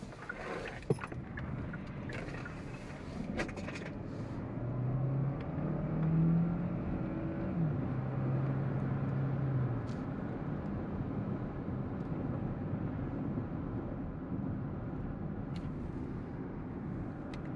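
A 2022 Hyundai Tucson Hybrid Limited in sport mode accelerates through its gears from inside the cabin, its engine rising faintly for a few seconds before settling into a quiet, steady road hum.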